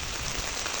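Heavy rain pours down steadily on a main road near Achchuveli in Jaffna, a loud, dense wash of noise with no voices.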